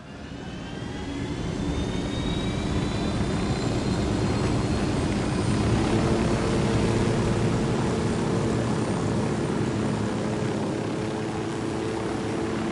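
A steady aircraft engine drone and rush in the Ghost Recon video game, flown by the player, holding loud and constant with a faint whine above it, no talking.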